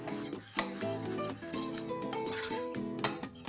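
Sautéed onions with red chili powder, turmeric and garam masala stirred in a pan, close scraping and light sizzling with occasional utensil clinks against a steady musical background.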